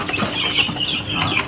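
Three-week-old free-range kampung chicks cluck and peep in a rapid, continuous chatter close by, with no talking over them.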